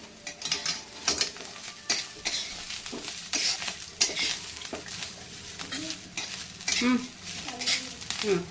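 Chicken masala with roasted gram dal and coriander stems roasting in a pan, a dense, busy sizzle under constant stirring and metal scraping against the pan, close and fairly loud throughout.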